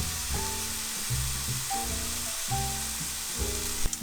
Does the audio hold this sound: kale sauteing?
yes